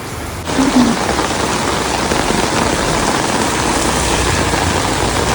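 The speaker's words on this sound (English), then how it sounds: "it started raining very heavily" Heavy rain pours down in Vang Vieng, Laos, in a dense, steady hiss that starts abruptly and continues loud and unbroken, with no voices.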